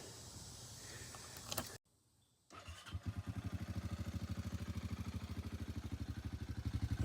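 Engine on a vehicle just rebuilt with new piston rings cranks and starts after a brief silence, settling into a steady, rhythmic close-up idle that grows slightly louder toward the end.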